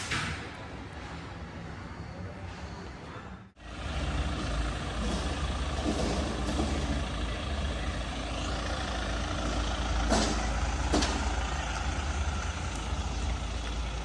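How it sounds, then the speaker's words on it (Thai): A Hyundai Staria van with a black front and a full body skirt kit pulls away for delivery: a steady, loud engine rumble and road roar that cut out briefly, then swell and hold close and continuous. "ไปครับไปส่งรถแล้วครับ"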